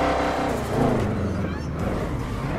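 A Chevette's engine revving hard while drifting in a GTA-style video game, a loud, close, continuous throttle drone with shifting pitch that fills the short moment.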